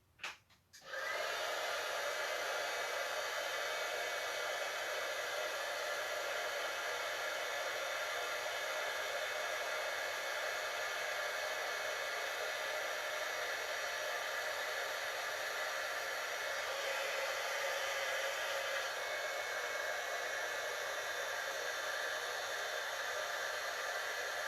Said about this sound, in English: I've heated up our embossing powder on there and created a gorgeous silver outline